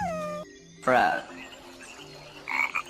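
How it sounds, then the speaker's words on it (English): A frog croaks once, loud and close, in a short burst of raspy rattling calls, followed by quieter chirpy noises. "Frog."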